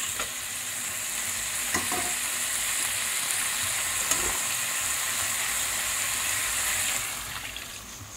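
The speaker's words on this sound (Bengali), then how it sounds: "এবার জল দিয়ে দেবো।" Water poured into a pan of frying shrimp curry with potato, a steady loud sizzle and bubbling hiss that fills the clip and eases slightly at the end, with faint clinks and no talk.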